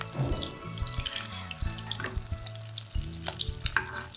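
Minced mutton balls deep-frying in hot oil, a steady sizzle and bubbling with some clinks of utensils and stirring, fairly close, with no talking.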